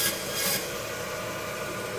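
A knife rasps steadily against bone while removing it from a beef rib section, a close, continuous scraping that swells briefly near the start and then stays even, with no talking.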